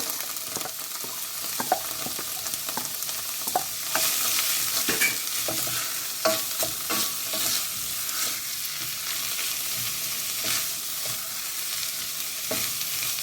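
Onions tossed into hot oil with herbs in a pan for a Tuscan bean stew, giving a steady close sizzle and frying hiss with scattered stirring scrapes and clicks throughout, and no talking.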